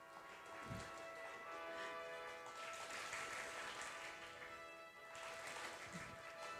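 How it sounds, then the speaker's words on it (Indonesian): An audience at a radio singing contest semi-final claps on a countdown cue, a moderate wash of clapping running throughout over a steady tonal hum from the hall. "semuanya tepuk tangan dulu"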